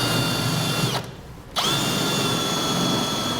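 A power drill with a 9/16 bit bores holes in the steel frame of a 2008 Ford F-250 truck, whining steadily at close range, briefly dropping off mid-way and then spinning back up.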